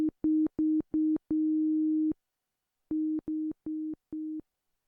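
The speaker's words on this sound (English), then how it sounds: "So I'm using a sine wave with a 16-foot octave." A Waldorf Blofeld synthesizer plays a pure sine wave set to the 16-foot octave, a low steady tone in clipped on-off pulses with one longer held note, then four more short notes, clean and alone.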